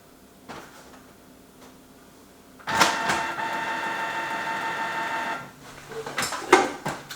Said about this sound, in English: We'll put the printer back and we'll turn the printer on.